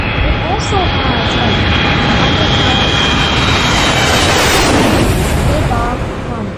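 Boeing 707 jet engines roar in a flight simulator game during takeoff, a loud, dense, continuous rumble with a rising whine that swells slightly over several seconds.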